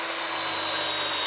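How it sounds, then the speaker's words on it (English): A power drill boring a hole into sheet metal gives a loud, continuous high-pitched whine with a steady tone, close up, lasting the whole brief moment without pause. "I'm going to drill a hole."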